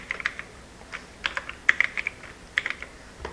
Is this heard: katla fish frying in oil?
no